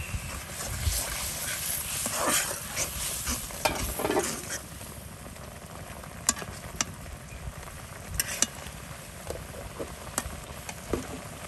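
Food stirred and sautéed in a pan, a continuous sizzle broken by irregular clinks and scraping knocks of a utensil, with faint background noise and no clear speech.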